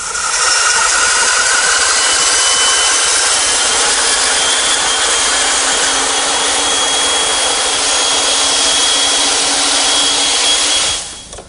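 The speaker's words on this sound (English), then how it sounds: "To remove the rest of the material, I'm turning to my bandsaw." Bandsaw ripping through wood for a cutting board, a loud steady broadband roar that holds unbroken for about eleven seconds before cutting off abruptly at the end.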